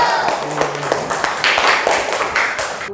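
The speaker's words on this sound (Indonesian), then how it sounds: "Tepuk tangan dulu." A class of schoolchildren clapping their hands together in an Islamic studies lesson, a brief burst of sharp claps close by with voices mixed in.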